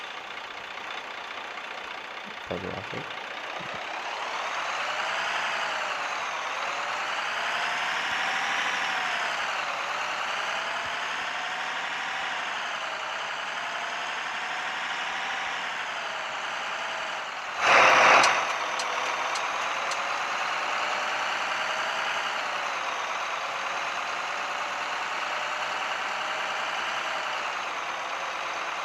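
A truck engine in a mobile truck simulator game for Android starts up with a short clatter, then settles into a steady idle with slow rising and falling revs; a brief loud burst sounds midway, and a voice speaks briefly early on.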